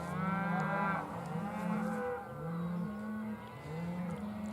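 Cattle mooing in spring before being moved out to the range, several long, low moos overlapping and following one another, fairly close over a steady background rumble.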